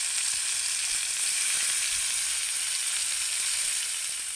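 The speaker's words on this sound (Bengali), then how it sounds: "বাকিগুলোকে কিন্তু আমি একইভাবে ভেজে নেব" Kathi kebab fries in leftover oil in a pan, giving a steady, close, even sizzle that hisses without a break and with no voices.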